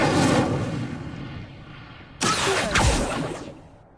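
Incendio fire spell cast in Hogwarts Legacy, a loud whooshing fiery burst that flares suddenly midway and roars for about a second before fading, following a softer rumbling start.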